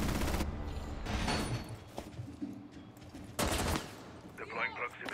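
Video game gunfire, with several loud bursts of rapid shots and single cracks close by, mixed with voices of players talking over the action.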